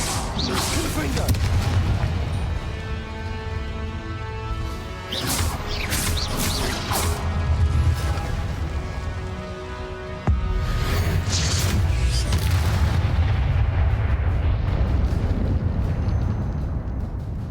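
Confringo blasting spells explode during combat in the video game Hogwarts Legacy: heavy booms and crashing bursts with whooshing swells, loud and continuous, mixed with game voices.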